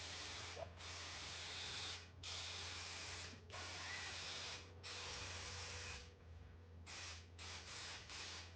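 A paint spray gun with a freshly scraped-clean nozzle hissing in a garage, several long steady bursts of spray separated by brief pauses, loud and close over a low background hum.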